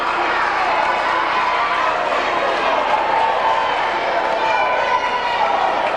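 Basketball fans cheering in a high school gym, a loud sustained roar from a packed crowd on its feet, steady and dense throughout, with an announcer talking over it.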